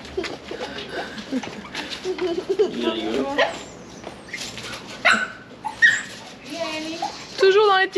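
A dog barks and whimpers on a street in Tbilisi's old quarter, sharp barks alternating with high whines and yips, close by, with people talking in between.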